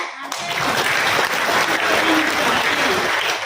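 Loud, sustained applause from a church congregation during a sermon, thick steady clapping after a brief quiet start, with a faint voice barely audible underneath.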